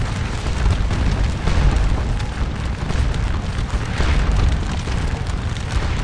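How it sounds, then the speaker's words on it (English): Rifle volleys rumble through a Napoleonic battle in Scourge of War: Waterloo, a continuous dense wash of distant booming musketry and cannon-like thuds with no talking. "Firing their rifles."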